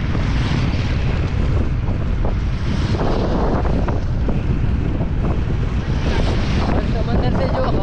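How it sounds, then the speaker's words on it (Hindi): Sea wind buffets the microphone during a coastal bicycle ride on the Mumbai–Goa route, a loud, constant roaring rush with gusty swells and no clear pauses throughout. "समंदर से जो हवा आ रहा है"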